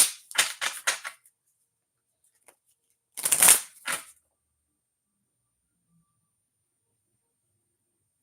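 Two quick bursts of tarot cards being shuffled, crisp riffling close by, separated by a few seconds of quiet.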